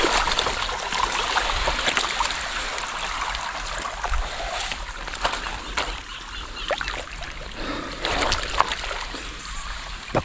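Irrigation water, pumped by solar power, flows into a farm field, a steady rushing and trickling with occasional splashes, close and continuous.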